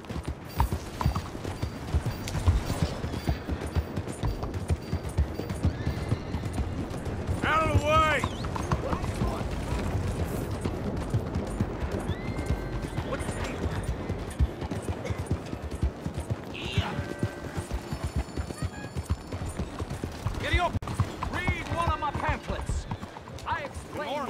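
Horse hooves clip-clop steadily in Red Dead Redemption 2, a continuous trotting rhythm beneath game ambience, with voices talking over it and occasional other effects.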